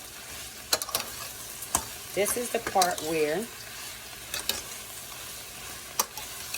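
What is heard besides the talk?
cabbage frying in a pan while being stirred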